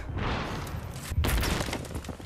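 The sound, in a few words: explosion in a video game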